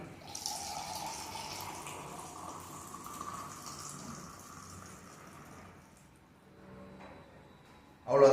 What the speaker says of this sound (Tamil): நெக்ஸ்ட் கெட்டில் இருந்து சூடாக தண்ணி